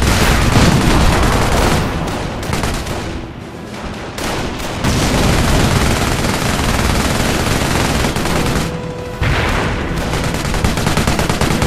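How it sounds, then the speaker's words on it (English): Sustained machine-gun fire in the World War II strategy game Company of Heroes, loud rapid bursts rattling almost continuously, with brief lulls and scattered booms mixed into the battle noise. "They keep sending up infantry into those machine guns"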